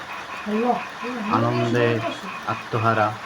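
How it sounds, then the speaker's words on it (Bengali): Frogs croak in the rain, in rough, repeated calls partly mixed with someone talking over them nearby. "অসাধারণ ব্যাঙের ডাক"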